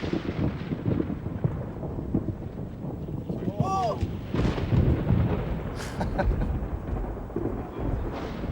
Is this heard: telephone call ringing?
no